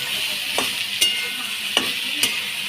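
Garlic with cardamom, cinnamon and black peppercorns fries in a pan over a constant soft sizzle, with four sharp scraping stir strokes spaced unevenly, close up and clear.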